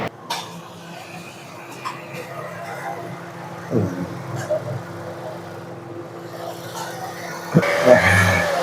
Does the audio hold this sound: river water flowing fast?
no